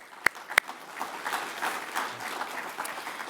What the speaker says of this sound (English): So a big round of applause to our sponsors.